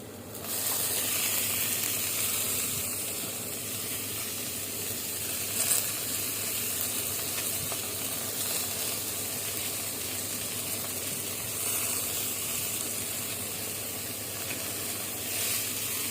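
Bean sprouts frying in a hot pan give a steady, close sizzle and hiss with faint crackle, running unbroken for the whole stretch with no voices over it.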